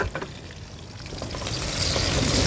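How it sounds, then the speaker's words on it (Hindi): Onions fry in a pan with a steady, dense sizzle close by, swelling a little louder toward the end, a few stirring scrapes breaking through near the start. "ये हमने जी प्याज को"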